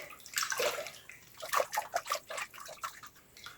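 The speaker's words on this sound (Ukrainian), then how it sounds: "огірки обов'язково заливаємо холодною водою. І заливаєте огірочки." Cold salted brine is poured over cucumbers packed for fermented winter pickles, making a close, splashy liquid pour with uneven gushes and a few separate sloshing bursts toward the end. No one speaks.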